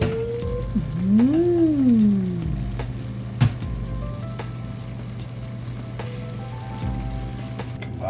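Butter being stirred into a shrimp scampi sauce in a pan with the heat off, a loud close bubbling sizzle with a swooping tonal squeal near the start and one sharp tap partway through.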